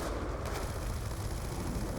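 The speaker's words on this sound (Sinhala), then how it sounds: "බෝම්බක් දානවා." A grenade explodes in the video game Call of Duty Black Ops 2, a loud sustained boom and rumble of battle noise filling the whole short stretch without a clear pause.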